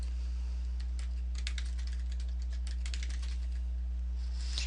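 Rapid, irregular clicks of someone typing a password on a computer keyboard, close and clear over a steady low electrical hum, with short pauses between bursts of keystrokes.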